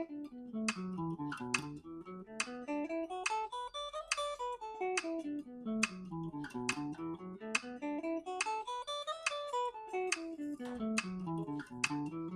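An acoustic-toned guitar runs fast, even sixteenth notes that climb and fall through a scale in smooth waves, while sharp metronome clicks tick steadily on the beat throughout, with no talking.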